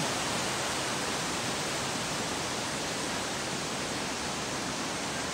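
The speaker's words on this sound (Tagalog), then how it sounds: "Welcome to Mimbalot Falls." Mimbalot Falls waterfall heard as a continuous, broad roar of falling water, steady and moderately loud with no pauses, speech, or other sounds.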